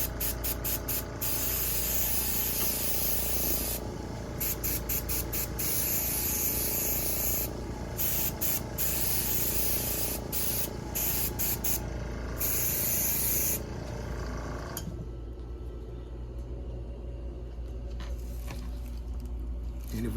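A paint spray gun laying down a coat over a chip repair on a car panel, hissing in long steady bursts broken by short pauses, then stopping near the end with quieter rustling.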